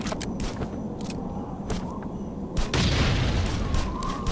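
In Last Island of Survival, a barrel bomb blasts a door. A few sharp cracking hits are followed by a heavy, loud explosion whose roaring tail lingers to the end.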